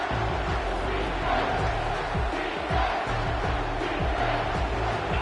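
Football stadium crowd roaring on a big third down, a dense sustained wall of cheering and yelling that swells and holds at a loud level throughout.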